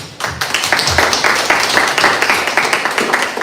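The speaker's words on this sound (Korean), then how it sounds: "우리 박수로 맞이해주세요." A lecture audience clapping steadily to welcome a speaker, a dense continuous wash of applause that holds for a few seconds.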